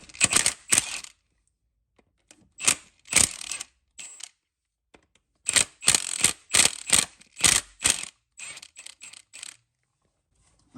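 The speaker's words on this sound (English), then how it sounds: "remove the 4 bolts around the crank pulley dampener. So we've got 13mm bolts around the outside" A hand ratchet works 13mm bolts off the crank pulley dampener of a Volvo 2.4 D5 engine, sharp bursts of rapid clicking separated by silent pauses, close and loud with no talking.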